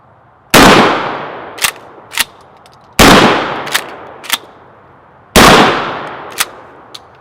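A Mossberg Shockwave pump shotgun fires double-aught buckshot three times, each loud, close boom about two and a half seconds apart and followed by two sharp clacks of the pump being worked.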